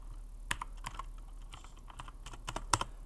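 Quiet, irregular clicks of keys on a computer keyboard, a short burst of typing with uneven spacing and one sharper keystroke near the end, heard close and alone.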